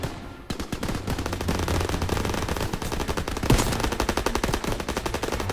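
Sustained automatic fire from a World War II machine gun in the Call of Duty WWII campaign, loud rapid bursts rattling continuously with a sharper blast midway, alone without talk.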